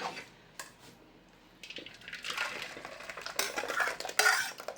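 Thick urad dal scraped and poured into a metal pot, with spoon clinks and wet, squelching slides building louder toward the end.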